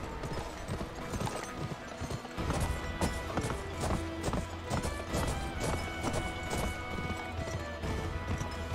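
Horse hooves clip-clop in a fast, steady rhythm in the western video game Gun, close and clear over game sounds.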